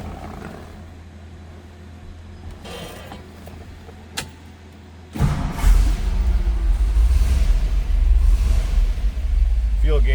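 A 1964 Ford Galaxie 500 Fastback, cold at start-up, sits quiet before its engine catches partway through and settles into a loud, steady, low rumbling idle that continues to the end.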